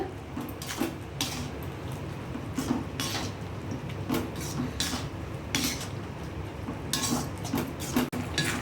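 A spoon scrapes and clinks against a metal pot in repeated stirring strokes, mixing salt and spices into an eggplant and drumstick curry, steady and close, with no talking.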